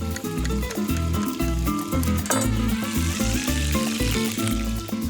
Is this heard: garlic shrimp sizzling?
yes